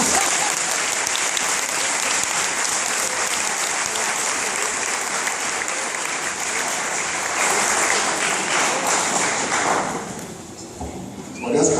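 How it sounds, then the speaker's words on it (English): An audience at a tribute to a priest claps steadily for about ten seconds, a dense close wash of applause that thins out near the end before a final thump. "Give a clap, please."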